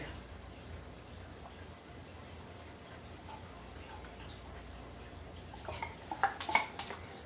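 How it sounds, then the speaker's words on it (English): A metal lid is lifted off a cooking pot while preparing pumpkin and carrot punch, giving a short cluster of clinks and rattles near the end after quiet background noise. "let me try to lift up the lid"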